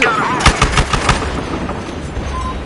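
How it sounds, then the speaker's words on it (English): Loud gunfire in a video game crackles in a rapid burst of sharp shots, with a heavier blast near the start and a thinning rumble after. "Explosion incoming."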